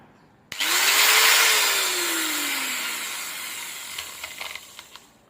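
An old angle grinder with a worn, cracked bearing switches on with a sharp click and spins up to a loud steady whine that slowly sags, then stutters and catches in uneven bursts toward the end, close by with no talk.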